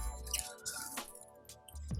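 Water poured onto the soil of a potted monstera plant, soft drips, squishes and trickles in short irregular bursts, close and quiet, with no talking.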